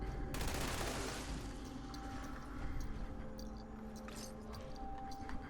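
Light machine gun fire in Fallout 76, a vampire's explosive LMG, rattling in a dense sustained burst from the start, with rapid overlapping reports and explosive crackle that carries on with little pause.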